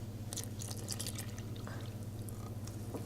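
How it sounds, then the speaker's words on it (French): Lukewarm milk poured into a bowl for homemade burger bun dough, a faint, steady liquid trickle with scattered small drips and splashes, quiet and close. "Et je vais mettre donc le lait."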